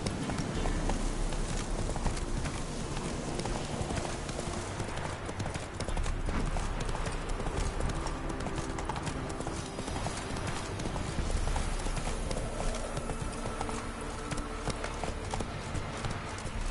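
Video-game horse galloping on PS4, a steady, loud run of clip-clop hoofbeats with an occasional whinny, continuous throughout over busy game background sound.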